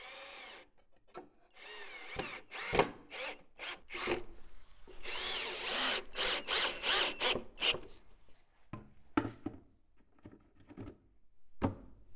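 A power drill drives fasteners into the reinforced side panel of a wooden cabinet in a series of short, sharp whirring bursts separated by pauses, with rubbing and handling noises between them and no talk.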